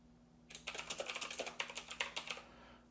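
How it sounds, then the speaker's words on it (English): Quick, clicky keystrokes on a computer keyboard type out a short line of text, a burst of about twenty taps in uneven rhythm, close and quiet with a steady hum behind it. "Let's type something into that right now."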